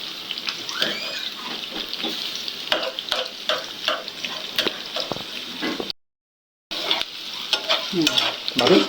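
Onions with green chillies fry loudly in soybean oil in a home kitchen, with continuous close sizzling and repeated spatula scrapes and stirring, cut by a short silent gap.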